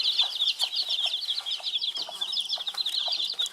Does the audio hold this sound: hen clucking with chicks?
yes